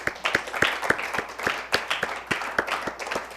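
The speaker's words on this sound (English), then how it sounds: "Let's give them a big round of applause." Audience clapping at a high school A-Team Challenge quiz game, a sparse run of separate, evenly spaced hand claps close by, more like a few people than a full crowd.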